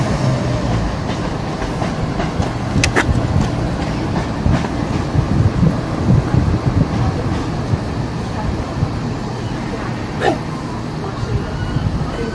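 Greater Anglia Class 170 diesel multiple unit departing Ipswich station, a steady rumbling roll with faint clicks of wheels over rail joints and occasional sharp squeaks, heard at moderate distance on the platform.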